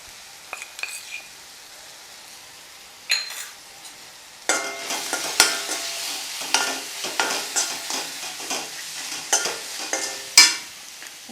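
Garam masala and pepper powder sizzle gently in a pan for chilli chapathi as a spoon stirs and scrapes, with quiet clinks at first, then repeated louder scraping strokes close by.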